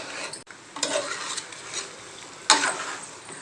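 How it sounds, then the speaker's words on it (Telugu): Chicken curry being stirred round in a pan gives scraping, clattering strokes over a soft sizzle, with one sharp knock near the start and a louder scrape later, and no voices. "మంచిగా రౌండ్గా తిప్పుకొని కలుపుకోవాలి"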